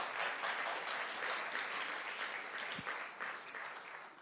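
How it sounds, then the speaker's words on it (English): A church congregation claps steadily throughout an Easter Sunday service, a dense, sustained round of applause heard from within the room. "Peter, give him a round of applause."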